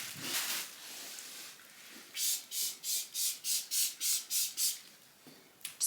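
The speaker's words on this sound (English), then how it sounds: "Just giving it a good spray under there," Short bursts from a spray bottle of cleaner hiss under a piece of household furniture, about eight quick even pumps in a steady rhythm, soft and close, with scattered faint handling noise before and after.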